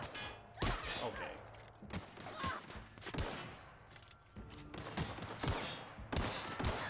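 Gunfire in The Outer Worlds video game comes as rapid bursts of close, loud shots with short gaps between them, and game sounds fill the background.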